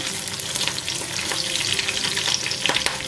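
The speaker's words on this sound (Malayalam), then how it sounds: "ഇനി നമുക്കിതിലേക്ക് കറിവേപ്പില ചേർത്ത് കൊടുക്കാം ഒന്ന് ഇളക്കി കൊടുക്കാം" Garlic and curry leaves sizzling in a pan while being stirred, made for a banana flower stir-fry; a steady crackling fry with scattered spoon scrapes and pops, close and alone.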